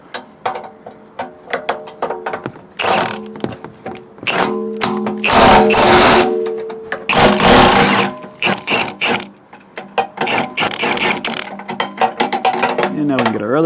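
A 15/16 socket wrench ratchets steadily while loosening hitch nuts on a Gen-Y Nomad 5th wheel to gooseneck hitch, giving rapid close clicking in long runs broken by brief pauses.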